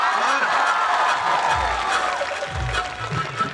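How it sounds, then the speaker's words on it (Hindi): Crowd at a live Kapil Sharma comedy show in Jabalpur cheering and clapping, a dense roar of applause and whoops that stays loud and steady throughout. "एक बार जोरदार तालियां हो जाए आप सबके लिए"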